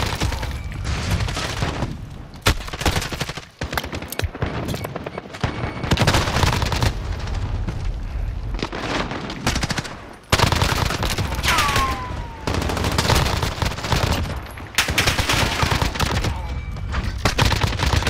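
Shotgun blasts and rapid automatic gunfire from Call of Duty: Modern Warfare multiplayer, loud and close, keep going through long sustained bursts with brief pauses between them.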